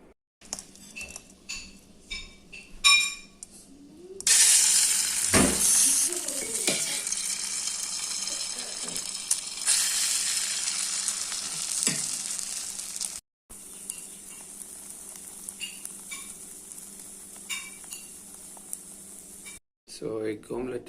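An egg omelette sizzles in a pan, seasoned with pepper, its frying hiss swelling loudly after a few seconds, with scattered utensil clinks and scraping stirs before a short gap and a quieter sizzle afterward.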